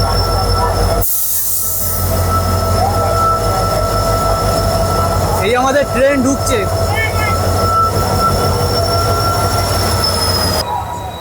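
A train rumbles steadily close by, wheels squealing and clattering, while people talk under the loud mechanical hum.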